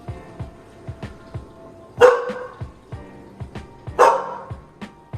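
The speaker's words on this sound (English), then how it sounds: "Hey, stop barking." A dog barking indoors, nearby and loud: steady short yips and barks with two bigger, louder barks standing out, alone without talk.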